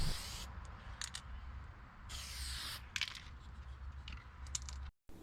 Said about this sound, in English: it's time to add a couple quick coats of vinyl sealer